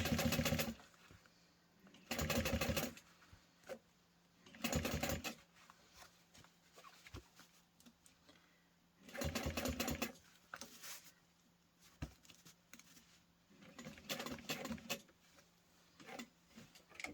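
A sewing machine stitches a backpack, running in repeated bursts of rapid mechanical clatter about a second long, separated by quiet pauses and occasional small handling knocks.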